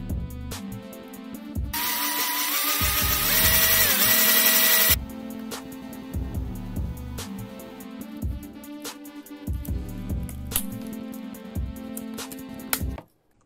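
A drill bores a hole through the plastic casing of a 12-volt drill battery charger, a loud grinding whine that surges for a few seconds, then steadier whirring in short bursts with brief pauses, close up.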